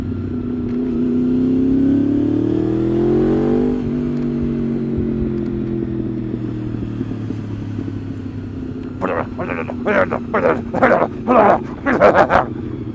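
An engine revs up in a rising whine, then settles into a lower idle while a dog barks repeatedly in sharp bursts nearby.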